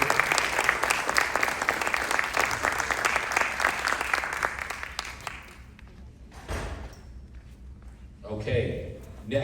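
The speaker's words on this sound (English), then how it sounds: "One more round of applause for our newest board member." Loud, dense applause for a new board member at a school board of education meeting, a sustained wash of clapping that fades after about six seconds into quieter room noise and scattered thumps.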